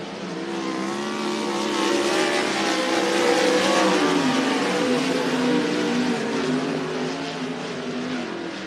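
Race cars at Cottage Grove Speedway, Oregon, roar past on the front straightaway, engines revving and droning loudly with shifting pitch as the pack passes.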